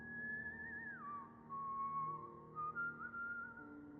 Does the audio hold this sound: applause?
no